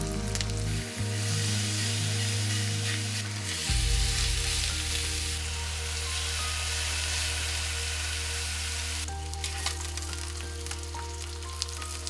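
Pork belly frying in a hot pan, a loud continuous sizzle and spattering of fat close up, with steady crackling throughout and no talking.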